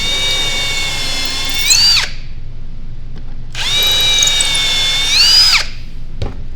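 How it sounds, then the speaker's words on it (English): Two loud bursts of a power drill whirring into wood, each about two seconds long, separated by a short pause. "Line everything up and then go ahead and drill in."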